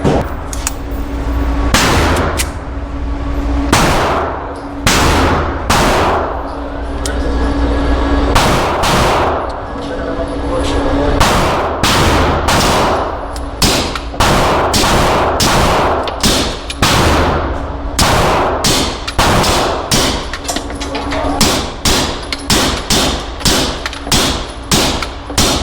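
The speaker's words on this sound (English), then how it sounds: "This time we're going to do a mag supersonic, so you can hear how it's in place, and a mag sonic" Beretta 92XI pistol fitted with an Omega 9K suppressor fired at an outdoor range, first a string of supersonic rounds, then a magazine of subsonic ones, giving dozens of loud, sharp reports, spaced at first and then in quicker bursts.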